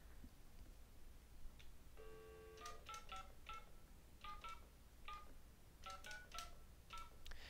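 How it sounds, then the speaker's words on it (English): A telephone is dialed to call a Google line, a short dial tone followed by a series of crisp touch-tone keypad beeps in irregular clusters, fairly quiet, with no talking. "I'm going to go ahead and pick up the phone here and call my Google"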